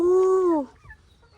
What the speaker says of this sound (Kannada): ಓ, ನಾಟಿ ಕೋಳಿಯಾ? ನಾಟಿ ಕೋಳಿ.